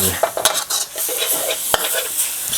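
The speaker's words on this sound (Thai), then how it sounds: "เขาจะคั่วไปนะครับ" Chicken curry with dill is stir-fried in a pan, a spatula scraping and clinking against the metal in quick irregular strokes over a light sizzle, close and without voices.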